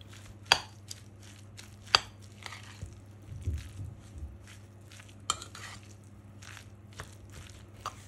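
A spoon stirs spinach spread with homemade mayonnaise and a pinch of salt in a bowl, giving soft wet squelches and scraping. Several sharp clinks of utensil against the dish come through clearly over a quiet background hum.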